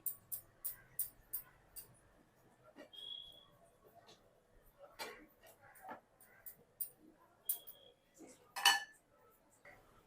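Cooked bottle gourd pieces are mixed with salt in a metal pot. A quick run of light, rhythmic clinks is followed by scattered soft taps and scrapes, all fairly quiet against a still background.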